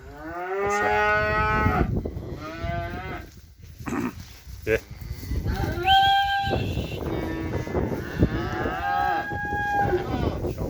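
Several cattle, including suckling calves, moo loudly in long, drawn-out calls, overlapping and close by, with other farm animal noises and some background voices.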